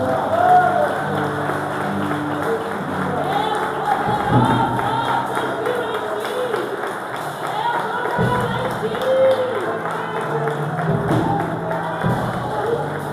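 A church congregation applauds, a mix of scattered clapping and crowd murmur that rises and falls over several seconds, with voices mingling under the claps.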